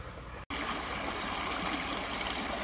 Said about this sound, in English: I can never resist sharing the beautiful flowing water right here when I come to this creek. I love that sound.